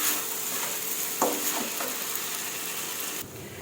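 Glass noodles and tomatoes stir-fried in a pan give a steady, moderate sizzle, with a few scraping strokes of the spatula partway through before the frying hiss drops slightly near the end.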